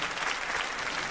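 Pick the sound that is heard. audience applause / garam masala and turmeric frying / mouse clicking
audience applause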